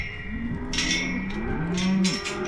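Cows and calves on a ranch moo repeatedly near a gate, several overlapping low and higher-pitched calls sounding close and loud with no talk.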